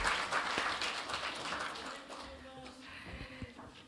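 Applause from an audience at a governance forum, fading from moderate clapping to sparse claps, with faint voices underneath.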